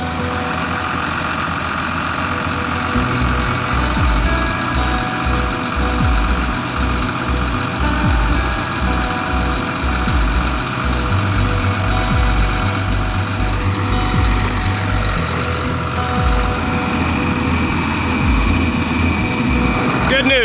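A farm tractor engine labors steadily while pulling a stuck irrigation pivot out of mud, a continuous low rumble with a repeating throb and a faint tonal whine, voices talking over it.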